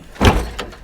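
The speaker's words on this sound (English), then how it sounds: "I closed the door and part of the car fell off from underneath it." A rusty old car's door shuts with a single dull, heavy thud, followed by a smaller clunk as a loose part drops from underneath, close by with no talk.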